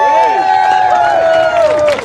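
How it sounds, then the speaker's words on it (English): Crowd at a March Against Monsanto rally in Las Vegas cheering loudly, with sustained shouts and high whoops over steady noise, sounding close and energetic throughout. "Give them a round of applause."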